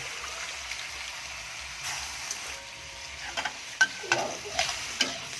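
Sweet and sour stir-fry with pineapple and sweet peppers is stirred in a hot pan: a soft continuous sizzle under scraping spatula strokes and several sharper clacks toward the end.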